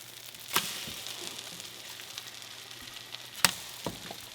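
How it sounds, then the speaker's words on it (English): French toast sizzles steadily in a hot pan, a soft continuous frying hiss broken by two sharper clacks of a spatula flipping the slices, with no voices. "Time to flip this French toast."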